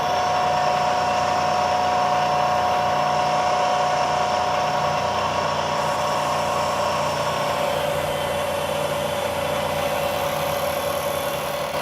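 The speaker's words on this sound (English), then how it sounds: "Now you can see the bit is carving away the material and leaving a really nice, perfectly rectangular channel." A milling machine bit cuts a rectangular channel in clamped material, giving a loud, continuous whining drone with a steady motor hum that shifts slightly partway through.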